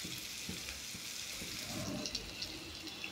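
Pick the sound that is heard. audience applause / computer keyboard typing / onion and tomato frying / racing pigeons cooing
onion and tomato frying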